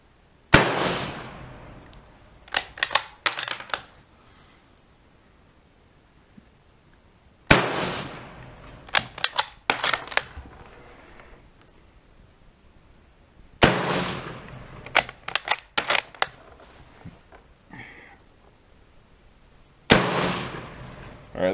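Four sharp, loud rifle shots from a Swedish M96 Mauser chambered in 6.5x55mm, each about seven seconds apart at an outdoor range, every crack followed by a short burst of echo and mechanical clatter before quiet returns.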